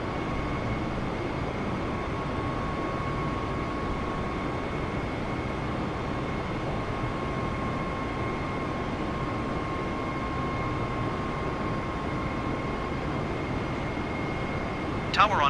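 Steady, droning airliner engine roar in flight in Microsoft Flight Simulator, an Airbus en route from Seattle to Boise, a constant broadband rumble with a faint steady tone over it and a brief click at the very end.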